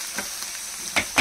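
Onions frying in a pan until brown, a soft steady sizzle with a few brief stirring scrapes, fairly quiet and alone.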